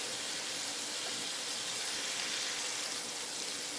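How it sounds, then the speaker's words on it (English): Saltfish sizzling as it goes into hot oil in a frying pan for Jamaican-style salt fish and broad beans: a steady, dense, close hiss that holds evenly throughout. "I'm gonna put my saltfish in now"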